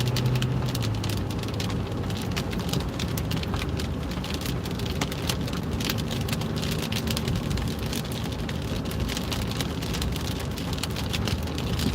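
Steady, dense rain pours down across a rainy Midwest day, a continuous hiss of drops on surfaces with no breaks, fairly loud and close, and no voices.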